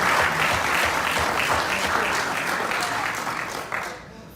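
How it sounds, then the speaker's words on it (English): Audience applause at a Nation of Islam lecture in Los Angeles, a dense, steady wash of clapping hands from a large crowd that holds strong throughout and thins out only in the final moment. "Give yourself a round of applause."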